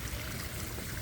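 Steady rushing of flowing water in a Japanese garden with a koi pond, a continuous broadband wash heard from nearby at moderate volume with no voices.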